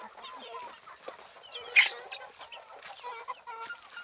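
Desi hens and roosters in a small enclosed coop cluck and murmur continuously at moderate distance, with one sharper squawk in the middle and a voice faintly underneath.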